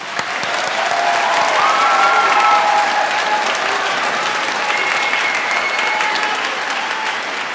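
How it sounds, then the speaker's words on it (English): Audience applause with light cheering at a school moving-up ceremony: a full, steady wash of many hands clapping, rising slightly then holding, with faint whoops on top. "Please give him a round of applause."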